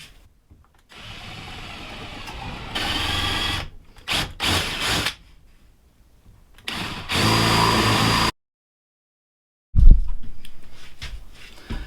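A handheld power drill bores 12.5 mm holes into a hydrofoil front wing in several loud, sustained runs with revving starts and stops and brief quiet gaps between, up close and without speech.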